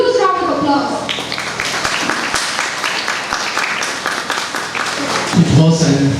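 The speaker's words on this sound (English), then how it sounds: "Please welcome Sir Terence with a huge round of applause." An audience at an inter-school competition breaks into loud, sustained applause to greet the chief guest walking onto the stage, dense clapping that fills the room for several seconds.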